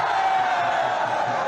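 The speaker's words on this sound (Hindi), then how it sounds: "जरा ताली बजाओ श्रेयसी सिंह जी।" Election rally crowd in Jamui, Bihar, a steady dense wash of cheering and shouting with no breaks.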